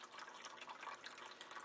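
Cat water fountain running with its flow turned down, a steady close trickle and splash of water continuing without a break.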